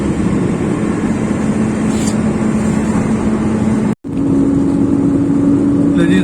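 Peak-hour road traffic heard from inside a moving vehicle in a city: a steady, loud engine and road rumble with a brief cut partway through, a voice speaking over it.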